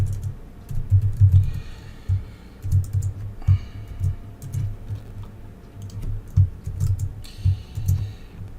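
Rapid keystrokes on a computer keyboard while Java code is typed, a steady run of close, crisp clicks with brief pauses and some louder thuds.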